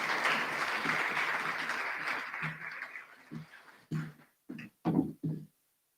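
An audience at a school's Year 12 final assembly claps, a dense, fairly loud round of applause that thins out, ending with a few isolated claps.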